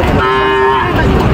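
A cow moos once at a busy cattle market, a loud, close, drawn-out low call over crowd background noise.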